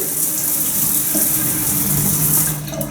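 A hotel shower runs at full pressure, producing a loud, steady hiss and splash of water that holds constant throughout, close by and with no voices.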